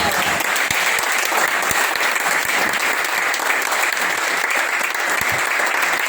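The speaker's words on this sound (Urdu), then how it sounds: "ان کے لیے تالیاں بجائیں" An audience claps steadily and loudly at the closing speech of a three-day workshop, with dense continuous applause and no talking throughout.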